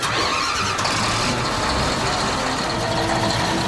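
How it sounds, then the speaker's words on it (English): Three bulldozers start up together for a house demolition, a loud, continuous wall of diesel engine roar with metallic clatter that holds steady throughout, no voices. "It's amazing what 3 bulldozers can do to a house in about 8 minutes."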